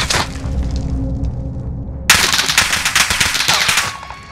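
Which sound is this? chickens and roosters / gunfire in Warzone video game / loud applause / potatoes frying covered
gunfire in Warzone video game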